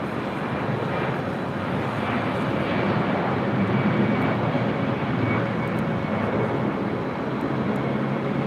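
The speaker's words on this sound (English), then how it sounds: "the A330 heading back to Barcelona" Airbus A330 airliner departing Los Angeles International Airport, a steady broadband jet engine roar that holds loud and even throughout, with no voices.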